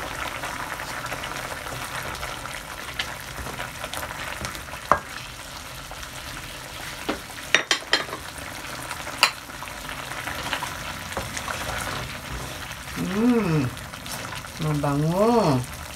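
Beef and sweet pepper fry in a pan with a continuous close sizzle, broken by a few scraping stirs. A voice speaks briefly near the end.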